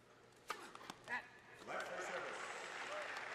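Tennis crowd at a 1978 Masters match between Connors and Borg reacting after a serve: a few sharp ball and racket hits, then a rising murmur and scattered applause that holds steady, with voices underneath.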